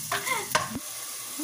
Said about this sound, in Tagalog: Ilagay ang sibuyas.